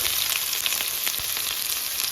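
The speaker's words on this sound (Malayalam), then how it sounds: "എണ്ണ ഒഴിച്ചതിന് ശേഷം ഉള്ളി ഇട്ട് നന്നായിട്ട് വഴറ്റിയെടുക്കാം" Onions sautéing in oil in a hot pan for a Kerala-style prawn roast: a steady, close sizzle with frequent small crackles and a few soft stirring knocks, continuous with no talk.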